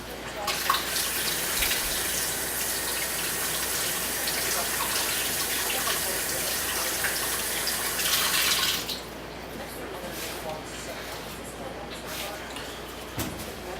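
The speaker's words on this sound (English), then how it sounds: "So I'm going to wash my tomato as well." Kitchen tap water runs steadily while a tomato is rinsed under it, a continuous hiss that stops abruptly partway through, leaving quieter sink sounds.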